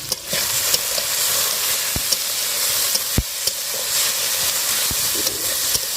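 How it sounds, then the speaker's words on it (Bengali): Potatoes sizzle steadily in a hot pan on a clay stove, a continuous frying hiss broken by a few sharp clicks and taps. "এখন উনুনে হচ্ছে আলু ভাজা"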